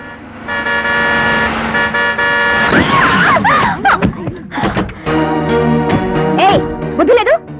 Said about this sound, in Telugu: హార్న్ కొడుతుంటే వినిపించడం లేదు?